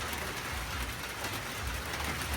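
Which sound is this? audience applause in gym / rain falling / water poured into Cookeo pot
rain falling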